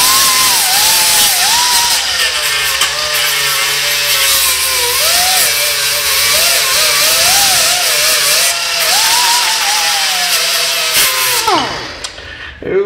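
An angle grinder strips rust from a brake caliper on a 1990 Buick LeSabre, a loud continuous whine that rises and falls in pitch as it bites the metal, then spins down at the end.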